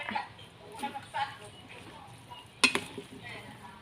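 Glass noodle salad (yum woon sen) being stirred by hand, with soft wet scraping and mixing sounds in a few bursts and one sharper utensil clink, close and fairly quiet, while someone talks throughout.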